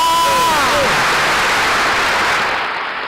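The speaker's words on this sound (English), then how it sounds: "I thought she would make the applause louder." An audience at an event applauds and cheers, a loud wash of crowd clapping that fills the clip and fades slightly toward the end, with a voice briefly audible at the start.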